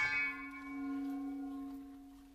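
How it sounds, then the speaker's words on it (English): A single bell on a children's game show is struck once to choose a quiz category, giving a clear ringing tone that decays slowly and fades over about two seconds, alone and fairly quiet. "choose a category of questions for Sue to answer by ringing that bell"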